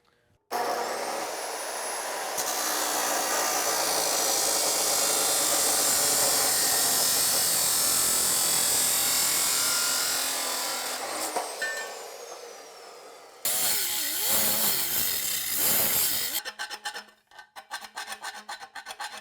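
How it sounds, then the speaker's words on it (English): A chop saw cuts exhaust header tubing for a Chevy Nova build, a loud, sustained grinding whine that holds for about twelve seconds, then shifts to rougher, rasping bursts as the cut finishes and winds down, with no talking. "So I'm just gonna use a chop saw."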